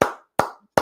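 Audience applause at a tribute, heard as three sharp, loud, isolated claps spaced evenly about every 0.4 seconds.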